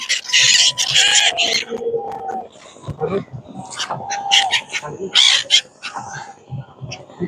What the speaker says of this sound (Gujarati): આ બધા પક્ષી ખાવા આવે છે।